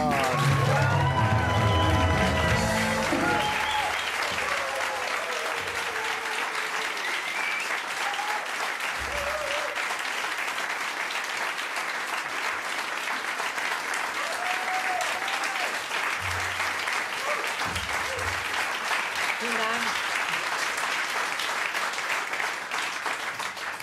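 A television studio audience breaks into loud, sustained applause and some cheering as a comedian walks on stage, continuing steadily for over twenty seconds with a voice briefly heard underneath.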